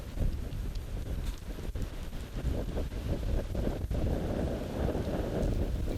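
Strong gusty wind buffets the microphone outdoors on a disc golf course during a tournament round, a loud continuous rumble with uneven surges and no speech.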